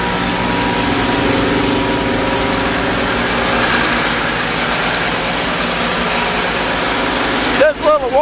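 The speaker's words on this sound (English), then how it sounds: "That blower's working, it creates heat." A truck-mounted blower runs steadily, pushing air hot enough to approach 150 degrees while flour is unloaded from a bulk truck, a loud constant mechanical drone with a brief voice near the end.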